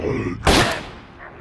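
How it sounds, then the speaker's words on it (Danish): A single handgun shot in the VR zombie game The Walking Dead: Saints & Sinners, one sharp loud crack that decays quickly after the blast. "Skal jeg prøve håndpistolen? Skal jeg prøve den? Jeg prøver den."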